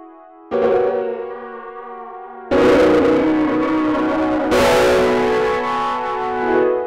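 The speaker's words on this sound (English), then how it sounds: "Let's add the n-Track tube distortion effect" A sustained, buzzy instrument tone with n-Track tube distortion and thick harmonics swells louder in stages as the drive is raised, gritty and saturated, with no voices.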